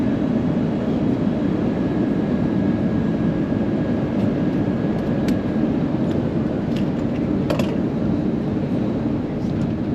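A Delta airliner cabin on descent into Reagan National Airport, Washington, D.C.: a loud, constant broadband engine and air roar fills the cabin throughout, with a few faint clicks near the end.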